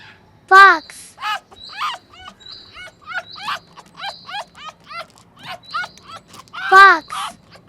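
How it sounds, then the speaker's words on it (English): A fox call made of a series of sharp, yipping barks, with two louder cries at the start and the end and quieter yelps between them, heard up close and alone. "fox,"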